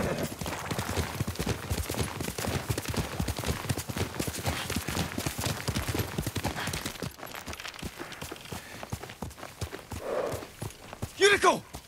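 Steady clip-clop of horse hooves in the video game Ghost of Tsushima runs under continuous talking, then fades, followed by a few sharper scuffs and clatters near the end.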